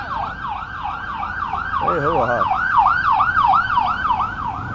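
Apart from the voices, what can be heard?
ambulance siren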